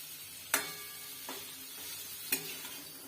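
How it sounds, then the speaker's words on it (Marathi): Eggs in masala stir-fried in oil for an egg curry make a soft steady sizzle, broken by three sharp spatula scrapes and knocks against the pan, quiet and close with no talking. "आपण अंडे मसाल्यामध्ये ॲड करून घेतलेले आहेत थोडं वेळ असे जरा तेलामध्ये परतून घेऊया"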